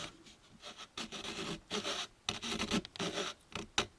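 A hobby saw cuts through a plastic model kit part in short back-and-forth rasping strokes with brief pauses, quiet and close.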